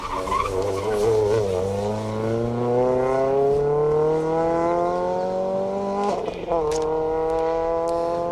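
A Renault Clio rally car on a Manx Rally stage skids past with loud, continuous tire squeal and a rising, straining engine note, which shifts pitch sharply as it goes by and carries on close and dominant throughout.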